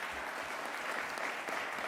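A crowd at a bill signing in Buffalo with Governor Andrew Cuomo breaks into sustained, even applause, a steady wash of many hands clapping, moderately distant and without speech.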